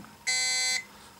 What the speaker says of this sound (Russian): Таким образом, звуковая либо штатная сигнализация в полной работе, рабочем состоянии.